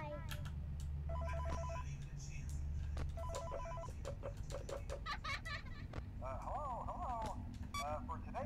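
A telephone rings in Five Nights at Freddy's Help Wanted, repeated bursts of trilling bells over a low hum and game noises, with a person talking over it.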